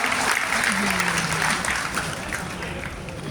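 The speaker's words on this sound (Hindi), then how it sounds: "तालियां बजा दीजिए।" Audience applause at an Urdu mushaira poetry gathering during Mysuru Dasara in Mysore, a steady wash of clapping throughout with a voice briefly audible underneath.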